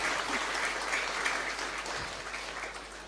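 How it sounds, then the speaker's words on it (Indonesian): An audience at a talk on women's issues giving another round of applause for Ning Sheila, steady, fairly soft clapping from a crowd that continues throughout. "boleh beri tepuk tangan sekali lagi untuk Ning Sheila"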